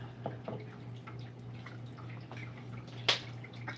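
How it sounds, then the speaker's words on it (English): Whey dripping from cheese curds held in a T-shirt, faint scattered drips and soft splashes over a low steady hum, close and quiet, with no talk. "I'll let this drip a bit"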